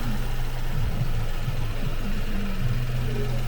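A 2013 Ford Focus 1.0L EcoBoost engine idles steadily with a low, even rumble, continuous and fairly loud throughout, with no voices.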